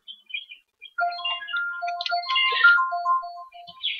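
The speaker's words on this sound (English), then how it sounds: "And the phone's alarm goes off." A phone alarm goes off during a Minecraft-style game session, a run of bright electronic melody tones in a rising and falling pattern, fairly loud with no talk over it.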